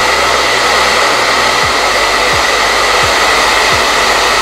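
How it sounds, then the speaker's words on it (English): A blow dryer runs loud and continuously close by, drying the roots of wet-look styled type 4 hair, its steady whooshing airflow shifting pitch several times as it is moved around. "I'm also gonna take my blow dryer to help it, like the roots, dry a little bit better."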